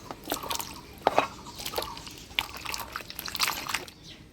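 Snake gourd is washed under water in a kitchen, giving irregular close splashes, drips and wet squishes of moderate loudness with no talking.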